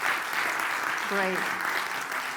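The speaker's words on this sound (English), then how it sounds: "I would ask you for another applause for all of them." Conference audience applauding steadily and evenly throughout, with a brief spoken word rising over the clapping midway.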